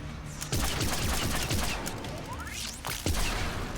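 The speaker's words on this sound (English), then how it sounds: "Yeah. Okay, that's a fun pistol. Alright, cool. Good test of the pistol." Pistol fire in the video game Mass Effect 3, a quick burst of sharp shots over dense combat noise and effects, loud and steady throughout, with no talk.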